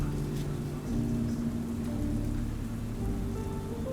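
Steady rain from a thunderstorm falls in a continuous, dense hiss with a low rumbling undertone, moderately quiet and even throughout, no voices.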